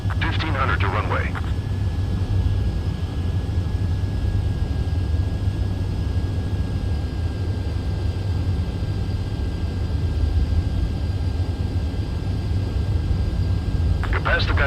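A fighter jet lands on a runway in the video game Ace Combat 7, with a steady, loud engine roar droning throughout and short radio voice bursts at the start and end.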